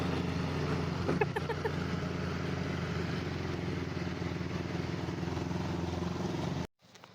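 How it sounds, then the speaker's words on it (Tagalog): Loud motorcycle engine running steadily close by on a mountain road trip to a waterfall in Ilocos Sur, a dense continuous drone with a brief clatter, then cutting off abruptly near the end. "Malakas ang makina niyan."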